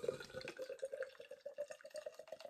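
Guinness Draught stout poured vigorously into a large glass, a soft, close, bubbling liquid stream with fizzy gurgles, steady and fairly quiet throughout, with no talking.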